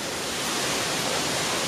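Heavy typhoon rain falls around a carport in a steady, dense hiss, loud and close, with no breaks and no voices.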